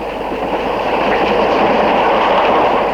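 A steam train, a 231 D locomotive, rumbles steadily along the rails nearby, a loud, continuous roar with faint rhythmic clatter of wheels.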